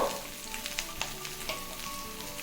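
Ridge gourd pieces hitting hot oil with cumin seeds set off a steady close sizzle, broken by a few sharp crackles and light stirring taps.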